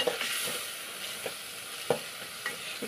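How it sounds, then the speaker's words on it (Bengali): Dried fish and shrimp being stirred and fried in a pan: a soft steady sizzle, broken by several sharp scraping strokes of a spoon against the pan, heard up close with no talking. "শুটকি দিয়া ছড়া দিয়ে রান্না করতেছি আজকে।"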